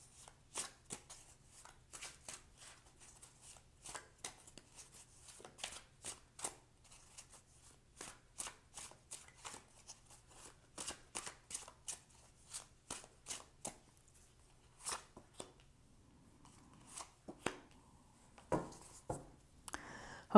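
Tarot cards shuffled by hand in a quiet room, a long run of soft, irregular riffling and slapping taps, close and fairly faint, with no speech.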